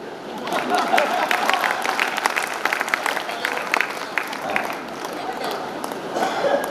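An audience at a mimicry comedy show claps in a steady, dense patter of applause lasting several seconds, with a voice speaking over it.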